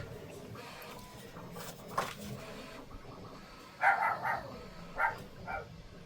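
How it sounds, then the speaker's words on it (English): Small yappy poodle-type dog barking indoors in a few short bursts, a pair of quick yaps followed by two more after a pause, moderately near and standing out over quiet room tone. "now you're hearing my mother-in-law's dog"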